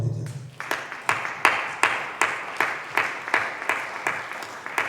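A church congregation claps in unison, a steady, even rhythm of about two claps per second, loud and roomy with a slight echo, with no talk over it.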